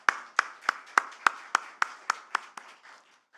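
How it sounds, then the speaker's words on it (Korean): A single pair of hands claps about ten times in a church service at a steady pace, sharp and close, slowing and fading toward the end. "우리 찬양대에게는 격려의 마음 담아서 크게 박수 한번 할까요"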